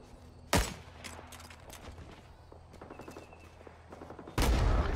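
AC-47 gunship gunfire in the Vietnam-era shooter Rising Storm 2: Vietnam, two loud bursts of rapid fire, one sharp and short near the start and a longer roaring one near the end, with quieter scattered shots and movement between.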